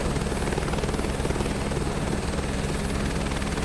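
A helicopter flies in a VR flight simulator game, its rotor chopping in a fast, even throb over a dense engine drone and high whine, steady and close throughout with no talk.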